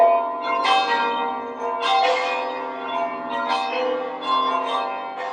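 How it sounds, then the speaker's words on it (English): A church bell at Saint Meinrad tolls in slow, evenly spaced strikes, each ringing out clearly with a long, resonant hum decaying between blows. "that one bell is sounding"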